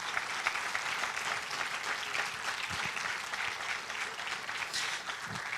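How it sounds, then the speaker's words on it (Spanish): Sustained applause from a church congregation giving praise, a dense wash of many hands clapping throughout, steady and moderately loud with no voices over it. "¿Cuántos le pueden dar un aplauso a Dios?"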